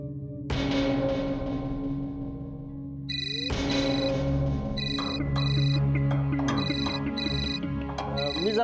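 A phone rings with a repeating electronic tone pattern over background music and a voice in a domestic TV drama scene.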